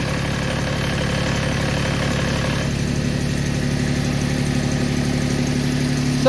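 A Massey Ferguson GC2310 compact tractor engine runs at a steady idle with the rear PTO engaged, a continuous close mechanical drone with an even low throb throughout and a slight change in tone partway through.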